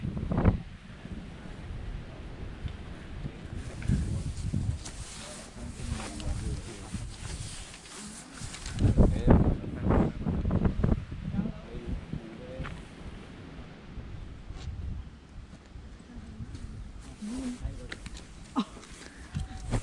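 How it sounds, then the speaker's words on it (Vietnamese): Wind buffets the microphone on the highest glass bridge in Southeast Asia, a rough, rumbling roar that swells and fades in gusts, with faint voices mixed in. "gió chạy thôi chứ"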